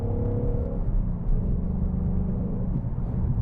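A 2019 Ford Mustang Bullitt's Coyote V8 with an MBRP X-pipe rumbles with a deep, steady low drone heard from inside the car, loud and continuous with slight swells.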